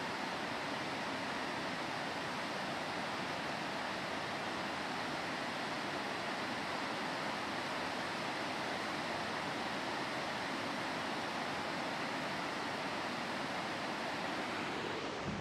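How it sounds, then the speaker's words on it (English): Upper Laurel Creek Falls at Lake Jocassee pours in a continuous broadband roar, steady and loud throughout with no pauses, filling the scene from close by without any voices. "This is, I would call it the Upper Laurel Creek Falls."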